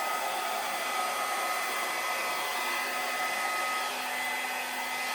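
A hair dryer blows steadily across wet acrylic paint on a poured canvas, a constant loud close whir with a faint whine running throughout, no voices.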